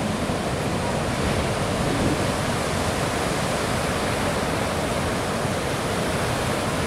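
Ocean waves at El Tabo beach give a constant, dense wash of surf, steady and fairly loud, with no voices.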